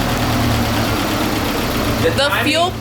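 A Nissan 240SX engine idles steadily right after its first start, a continuous low rumble running the whole time, with a brief higher whine or squeal and some movement noise toward the end.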